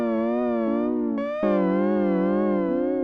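A sustained synth tone wobbles with a one-semitone LFO vibrato. It holds loud and buzzy and jumps between a few pitches before cutting off, with no talking over it.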